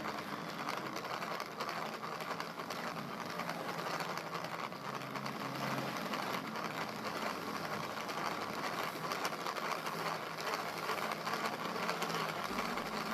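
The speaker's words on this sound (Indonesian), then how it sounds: "Kocok putih telur sampai berbusa menggunakan kecepatan tinggi" A hand blender whisks egg whites at high speed for a pandan sponge cake, giving a steady, close motor whir that holds unbroken throughout with no talking.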